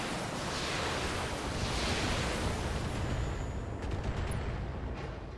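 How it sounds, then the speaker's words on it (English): Weapons from BattleTech mechs such as a Wolverine and Firestarter unload on a turret in a loud, sustained roaring barrage, with a few sharper cracks toward the end. "Fire everything, kill the turret."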